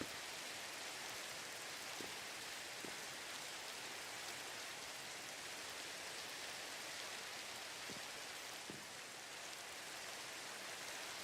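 Rain falls steadily in a Minecraft modpack, a broad, even hiss that holds at a constant level throughout, with a few faint low thuds.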